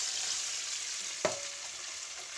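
Pilaf sizzles steadily in hot oil over medium heat, a constant frying hiss broken by one brief clack of a utensil against the pan near the middle.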